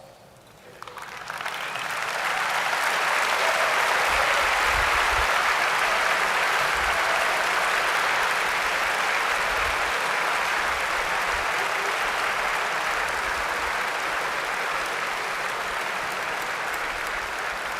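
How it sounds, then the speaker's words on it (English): A large audience at a 2024 graduation ceremony breaks into a loud, sustained round of applause that swells within the first two seconds and holds steady, a dense wash of clapping with no voices on top. "Graduates, would you please rise and give your most steadfast supporters a big round of applause?"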